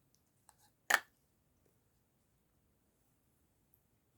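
Scissors snip once through a crochet yarn tail, a single short close crisp cut after a faint tap, then near silence.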